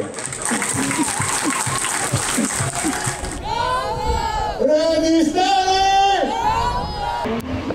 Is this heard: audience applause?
yes